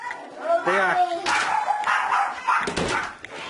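Several dogs bark and yip in short, loud, close bursts that overlap with other busy noise, with a few whimpering, rising calls among them.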